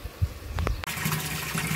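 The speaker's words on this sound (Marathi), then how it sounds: "पाणी चांगलं जोरात मारते बघा प्रेशर." Water gushes hard from a household tap at high pressure, a steady rushing stream that starts abruptly after a few knocks and continues loud and close.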